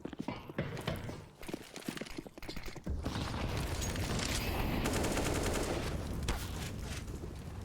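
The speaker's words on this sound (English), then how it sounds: "Couple shots come through for Electronic." Gunfire in Counter-Strike on the Nuke map during a pro match, sparse scattered shots early followed by a loud, sustained burst of rapid firing and clatter.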